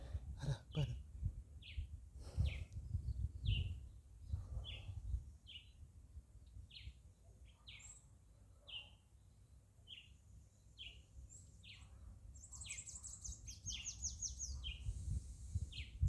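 Evening birdsong with short bright chirps repeating at a steady pace, fairly distant and soft, over a quiet low rumble with faint additional calls later.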